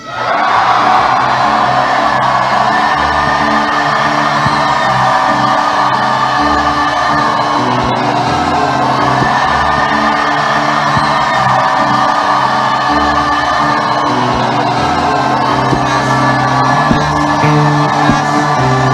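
A large church congregation at a religious service shouts, whoops and yells together in a loud, sustained roar that holds steady for many seconds, with voices blending into one dense wall of sound.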